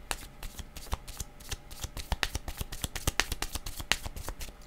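Close, brisk shuffling of a tarot deck, a rapid and fairly even series of sharp card slaps and flutters lasting several seconds, with no one speaking.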